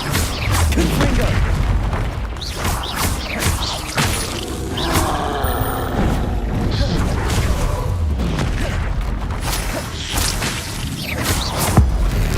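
Spell-casting combat in Hogwarts Legacy, with Confringo fire blasts: repeated booming explosive impacts, whooshes and crashing debris over a dense, loud battle din, with voices calling out amid the action.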